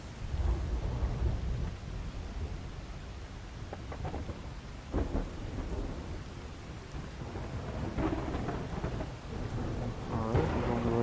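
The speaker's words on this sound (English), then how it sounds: "So the storm's getting a bit crazy." A thunderstorm in the video game The Cycle, with steady heavy rain and rolling thunder that swells loudly several times across the stretch, continuous and enveloping with no voices.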